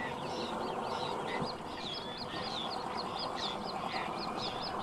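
A busy breeding colony of birds on wooded and sandy islands, with many calls repeating rapidly over a constant noisy background hiss. Sand martins, cormorants, cranes and herons nest there.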